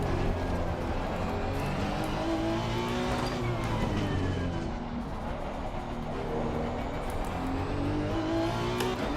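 Race car engine in Assetto Corsa Competizione, a loud, continuous high-revving drone that climbs and drops through gear changes and corners, with faint tire squeal and no voices.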